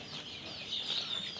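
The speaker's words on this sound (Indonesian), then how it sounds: "Inilah ayam-ayam kampung, ibu-ibu yang sedang bertelur" Village hens at a farm where about sixty birds are laying, giving a steady chorus of clucking and soft calls that stays fairly even and close throughout, with no talk over it.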